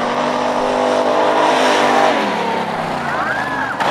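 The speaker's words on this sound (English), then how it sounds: "So it looks like Shawn is leading the race here with very few problems." Stock car engines roar loudly and continuously around an oval track at a racing event, with a steady drone that shifts in pitch as cars pass, under a commentator's voice.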